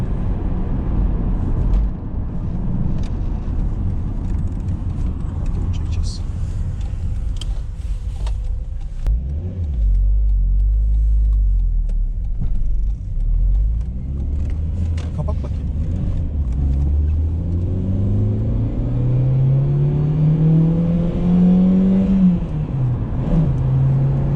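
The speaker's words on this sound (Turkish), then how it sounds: "Dördüncü vites 3000 devirle hiç kesilmiyor ve çeyrek basıyorum gaza." Inside a 1996-era Renault Laguna 2.0 petrol car climbing a hill in fourth gear at around 3000 rpm under light throttle, a steady low engine drone that rises in pitch as it pulls, with someone speaking now and then.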